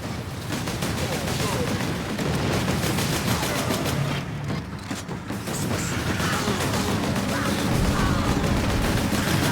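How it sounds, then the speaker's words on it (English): Standard pattern Godwin bolter fire in Warhammer 40K: Space Marine, continuous heavy automatic shooting mixed with battle noise and shouted voices over nearly ten seconds, with a brief lull midway. "The weapon that the Space Marines are using here is the standard pattern Godwin bolter"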